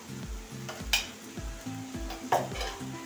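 Masala with Kashmiri chili and a spoon of sugar sizzles in a pan while a spoon scrapes it in a steady rhythm, with two sharp metallic clinks against the pan, close and clear.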